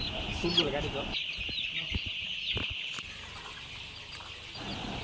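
Twenty-day-old chicks on a poultry farm peep and cluck together in a constant high chatter, with occasional faint taps and rustles in the shed.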